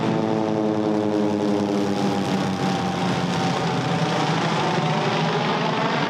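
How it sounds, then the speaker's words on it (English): A Grumman Goose mail plane coming in to land, steady close propeller engine drone with harmonic hum, continuous and loud across the stretch. "So that big plane, I believe, is the mail plane, but it's called a goose"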